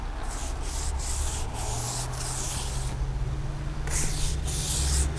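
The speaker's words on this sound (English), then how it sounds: "I use the short-haired brush for any tires that seem to be covered with mud or any loose dirt as well" A stiff short-bristled brush scrubs a muddy tire on a black 2017 Camaro 1SS. The close scratching comes in quick repeated strokes at a steady rhythm, with a pause and then a louder burst near the end.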